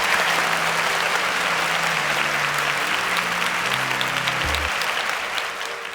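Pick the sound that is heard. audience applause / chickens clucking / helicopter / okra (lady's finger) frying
audience applause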